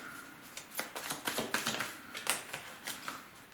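Tarot cards drawn one by one and laid out for a reading make a rapid series of soft, close taps and flicks, irregular but steady, with no voice over them.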